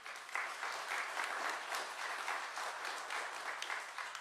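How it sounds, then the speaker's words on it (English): Guests at a U.S. Army 250th anniversary breakfast reception applaud the recruiters, a steady, moderately distant round of many hands clapping with no speech over it. "So thanks to all of them, and a round of applause"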